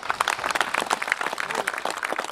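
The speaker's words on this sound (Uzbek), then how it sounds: "Yana bir bora jonli qarsak qilib beringlar." Concert audience gives live applause at a comedy show, a dense, lively patter of many hands clapping close by, steady and unbroken throughout.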